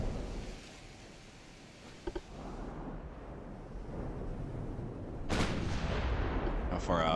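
Naval shell fire in Ultimate Admiral: Dreadnoughts: deep, rumbling booms from warship guns roll under a steady background, with a sharp heavy blast near the end, some speech audible.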